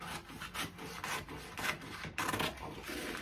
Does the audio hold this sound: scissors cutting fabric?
yes